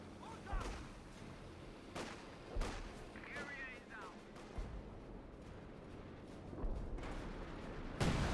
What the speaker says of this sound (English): Major artillery being brought in right there